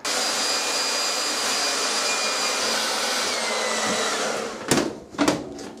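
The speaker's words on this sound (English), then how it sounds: "Are you using a blow dryer?" A blow dryer runs with a steady, close, airy roar, then cuts off near the end, leaving a couple of short thumps and rustles.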